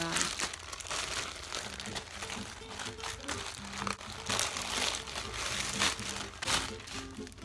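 Plastic packaging from an online shopping haul crinkles and rustles steadily while being unwrapped, close and fairly quiet, with a voice talking intermittently over it.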